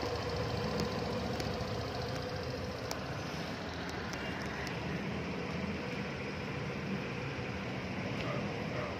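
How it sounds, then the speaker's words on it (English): A cold 2024 Suzuki Burgman EX scooter engine idles, a steady low rumble with a slightly uneven, knocking pulse, close and continuous with no talk. "Still cold, that's why the idle is not smooth yet."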